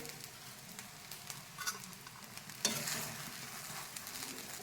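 Sabudana khichdi is heated and stirred in a pan, giving a soft, continuous sizzle with scraping stirs, and a louder scrape partway through, alone and close.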